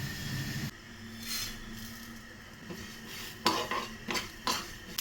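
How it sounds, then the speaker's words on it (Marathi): A spoon stirs whole spices in a dry pan: black cardamom, black peppercorns, cumin, fennel and coriander seeds. Soft scraping gives way to several sharp, close metallic clinks against the pan. "हे सर्व आता भाजून घेऊया आपण।"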